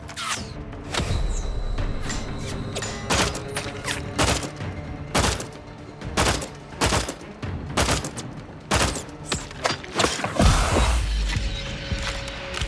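Repeated bursts of gunfire from the PC video game The Outer Worlds 2, loud and close, come in irregular volleys of sharp shots with brief gaps between them.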